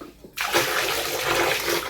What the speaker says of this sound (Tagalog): Ayan, magpa-flush naman siya